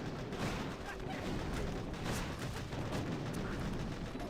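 Doom Cannon artillery fire in a video game battle against a Scorched Mega Crab: a continuous dense barrage of booms and blasts, loud and steady throughout, with a voice talking over the gunfire.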